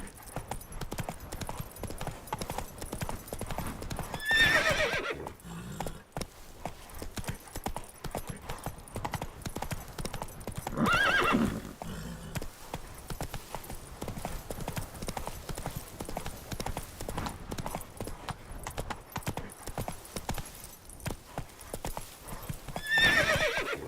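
A horse in the video game The Witcher 3 gallops with rapid, continuous hoof clip-clops and gives several loud neighs and whinnies spaced through the run.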